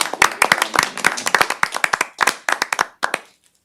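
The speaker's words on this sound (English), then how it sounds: "We need to give them a hand of applause." Applause at a city council meeting: a scattered group claps in quick irregular bursts for about three seconds, fairly close and loud, then trails off into a few last claps and quiet.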